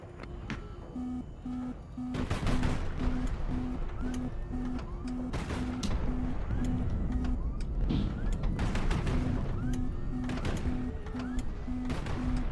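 Missiles launching and exploding in Highfleet, a series of loud whooshing blasts and crashes layered over a steady repeating alarm beep and constant combat rumble.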